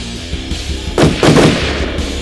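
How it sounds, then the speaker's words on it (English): Bursts of gunfire from shotguns and assault rifles, several loud close blasts crowding together over about a second, then trailing off into a lingering rumble. "I just heard an array of gunfire. We're talking shotguns, assault rifles."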